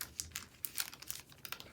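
Very thin planner stickers crinkle and tick softly as they are peeled and pressed down by hand, a run of small, close, quiet crackles and taps with no talking.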